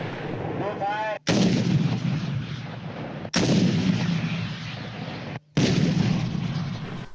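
Three loud, sharp anti-tank rocket launches, AT-4 type, at a military academy range, each a sudden blast with a long rolling roar that ends abruptly, spaced about two seconds apart, with a brief whistle-like tone before the first.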